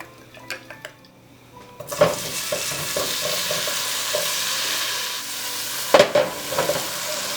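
Food sizzling in olive oil in a frying pan, a loud steady hiss that starts abruptly, with scattered stirring clatters of a utensil against the pan.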